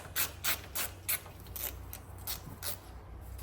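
A hand ratchet loosens a fender liner nut on a BMW, giving a rapid, rhythmic series of close metallic clicking bursts that soften toward the end.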